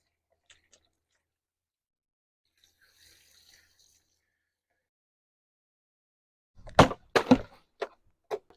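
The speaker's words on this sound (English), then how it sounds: "It was a little bit thirsty, so I gave it some water." Water is poured onto an overheated Amazon Basics device. Several short, close splashing bursts come near the end, after a long stretch of near silence.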